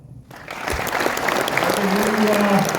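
An audience applauds a scholarship recipient at an awards announcement, sustained clapping that swells after a brief quiet start and holds steady, with a voice talking over it.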